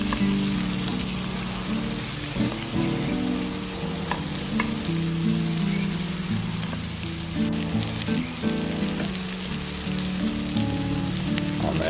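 Steak strips fry in a pan with peppers and garlic, giving a dense, loud sizzle with frequent stirring clatters throughout and no talking.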